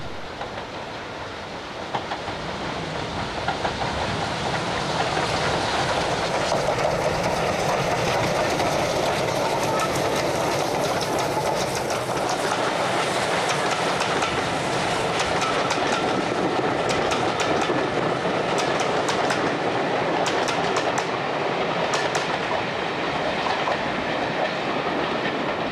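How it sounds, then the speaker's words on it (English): A Standard Tank and a Super D locomotive double head a train at Olive Sidings, a steady loud roar of engines and rolling wagons with rhythmic clickety-clack wheel beats and occasional faint squeals, continuous throughout and without voices. "The Standard Tank and Super D are seen double heading at Olive Sidings."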